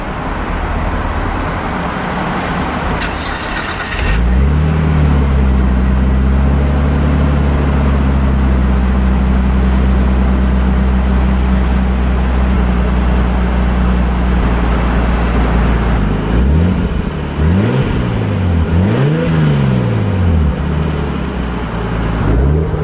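Nissan Skyline R34 GTT engine cranks and catches, then settles into a loud steady idle before a burst of sharp revs near the end, close to the car with no talking.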